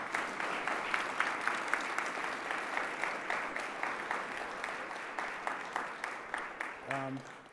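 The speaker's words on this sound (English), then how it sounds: "round of applause for these amazing panelists" Audience at a Columbus Metropolitan Club panel event gives the panelists a round of applause, a steady crowd clapping with a sharper rhythmic clap standing out, fading at the end as a voice begins to speak.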